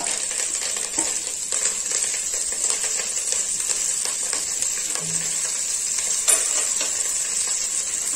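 Mint and coriander leaves frying in hot oil inside a pressure cooker, a steady bright sizzle with occasional clinks and stirring scrapes throughout.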